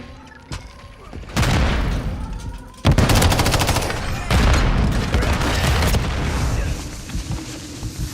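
Grenade blasts and heavy automatic gunfire from Call of Duty: Modern Warfare 3 combat, loud and dense: an opening burst, then a sharp boom near three seconds followed by sustained rattling fire and explosions that fade out toward the end.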